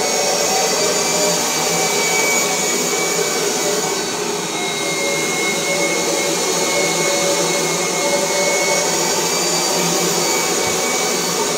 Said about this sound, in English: See, the vacuum is just put towards itself.